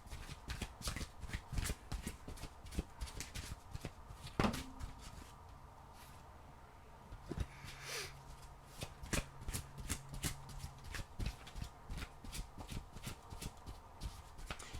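A deck of oracle cards is shuffled for a reading, giving repeated crisp riffling and slapping bursts in a steady rhythm, close and fairly quiet, with a short pause in the middle and no talk.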